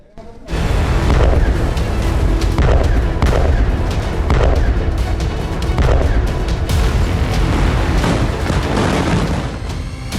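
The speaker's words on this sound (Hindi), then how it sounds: "बारूदी धमाकों से थर्रा उठा ईरान का फोर्डो न्यूक्लियर सेंटर" Repeated heavy booms and blasts from attacks on Iran's Fordow nuclear facility follow one another across the whole stretch, loud and rumbling, with no voices.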